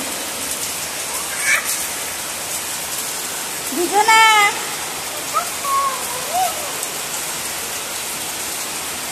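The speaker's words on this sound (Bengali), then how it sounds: "আর বৃষ্টিটা চলে আসলো" Steady rain falls outdoors as a continuous broadband hiss, with a few short voices and chirp-like sounds rising briefly above it.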